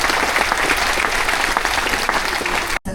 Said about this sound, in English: So another big round of applause for our Korean War veterans